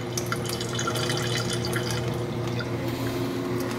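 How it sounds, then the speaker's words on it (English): Flood coolant drains continuously into the chip pan of a lathe, a steady close trickling and splashing over a low machine hum with no talk. "Seems to be draining. I can hear it going in the pan."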